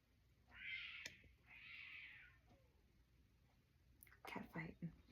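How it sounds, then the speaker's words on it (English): Two drawn-out, yowling cat cries rise and fall in the first half, followed by a burst of sharper, scuffling screeches near the end, all fairly faint against a quiet background. "Cat fighting."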